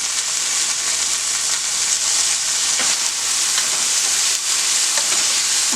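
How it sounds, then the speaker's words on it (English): Red herring and red peppers fry in hot oil with a loud, steady, close sizzle that crackles evenly throughout, with no voices. "I'm going to throw some red peppers in there."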